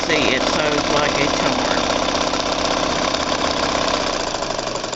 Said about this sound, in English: this machine has just been serviced professionally, and you can see it sews like a